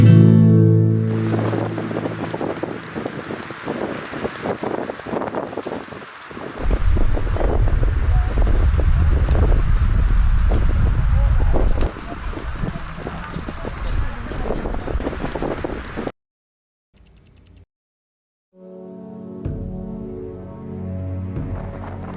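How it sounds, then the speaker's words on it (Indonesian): Strong, cold mountain wind storm buffeting tents on Mount Rinjani, roaring and gusting loud and close for about sixteen seconds before cutting off, with a voice speaking over it in places. "Namun angin masih sama seperti kemarin, liar, dingin, dan tak mengenal lelah."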